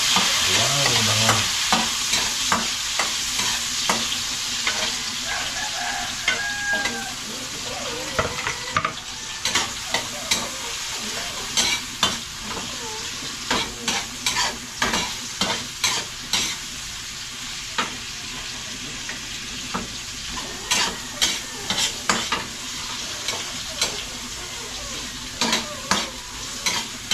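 Garlic and onion frying in a pan, a steady bright sizzle running throughout with frequent sharp scraping clicks of a spatula stirring against the pan, close and continuous with no talking.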